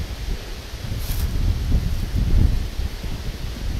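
Wind buffets the microphone with low rumbling gusts, with a faint rustle in the background and no voices.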